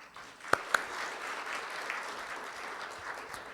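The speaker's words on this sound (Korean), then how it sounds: "다시 한번 큰 박수 부탁드립니다" Audience applause at the close of a lecture at a transport policy forum, a sustained crowd clapping in a hall, moderately quiet and even, with a couple of sharp louder claps near the start.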